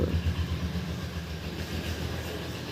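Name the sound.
train passing over a bridge in Sylhet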